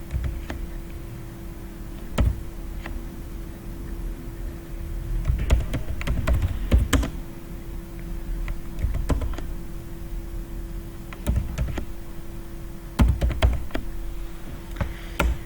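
Computer keyboard typing while entering text in a Microsoft Word document: irregular clicks and short bursts of keystrokes close to the microphone, separated by brief pauses, over a faint steady hum with no speech.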